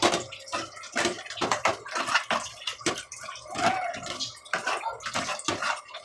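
Water runs and splashes from a tap in a home kitchen while fish and lentils are cooked, a close, uneven rush with bursts and drips over about six seconds, no talking.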